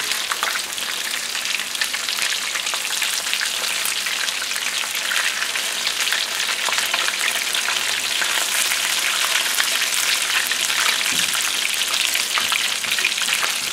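Turkey burger patties sizzle in a frying pan, a loud, steady, close hiss of crackling fat that holds evenly throughout with no one talking.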